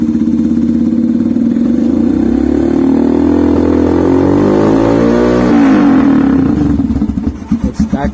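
A Royal Enfield Himalayan motorcycle with a free-flowing Autologue FT411 exhaust and no dB killer revs loudly and steadily close by, its pitch climbing as the throttle opens before dropping back to a lumpy idle.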